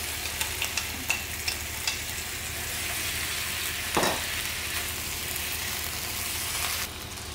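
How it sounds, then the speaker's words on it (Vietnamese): Choy sum greens and octopus noodles stir-fry in a hot pan, a steady close sizzle broken by sharp clicks and scrapes of the spatula, with one louder tossing clatter midway. "Moon sẽ cho cải ngọt vào để xào chung luôn nha"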